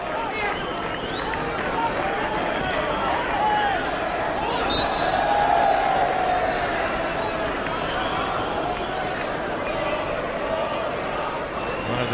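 Large football crowd at an Arsenal versus Leicester City Premier League match in the 1998-99 season, a steady dense roar of applause and crowd noise throughout.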